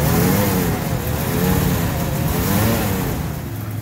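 A 1956 Dodge truck engine idles and revs steadily up close, a continuous low mechanical drone with gentle swells in pitch and no talking over it.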